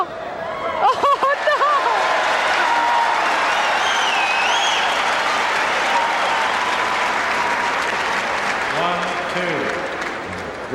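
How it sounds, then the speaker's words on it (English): A crowd at a 1978 Phoenix Racquets versus San Diego Friars tennis match cheers and applauds loudly after a return, a sustained roar with scattered whoops and laughter, while a commentator talks over it. "They're cheering the snake just because he returned it"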